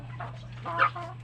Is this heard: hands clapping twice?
no